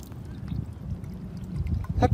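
Seawater from a water sampler at a seagrass meadow trickles and pours into a graduated cylinder as a low, steady gurgle, with a louder splash near the end.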